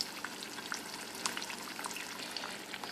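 Eggs frying in a pan over heat that has been turned down slightly, giving a steady close crackling sizzle with scattered pops throughout, no voices.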